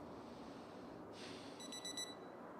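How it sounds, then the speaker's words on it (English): Alarm clock going off in the video game Project Zomboid, a faint high electronic beeping in quick repeated pulses that starts partway through over a steady low background hum. "There's our alarm."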